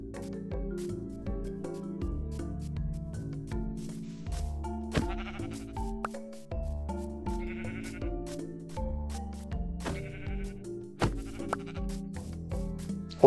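A Minecraft goat bleats repeatedly in short, wavering calls, loud and close, spaced irregularly over quiet game ambience with no talk.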